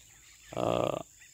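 A duck in a rice paddy gives a single short burst of nasal quacking, close and fairly loud over quiet outdoor background.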